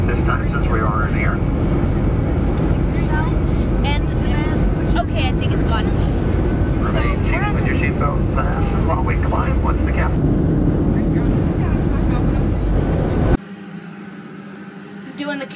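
Steady, loud roar of an airplane cabin in flight, a broad constant drone, with scattered voices and clinks underneath before it cuts to quiet.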